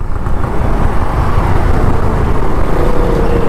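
Busy Sunday city road traffic on a Chennai ride with cars, autos and bikes, a steady close rumble of engines and tyres filling the whole stretch without a break.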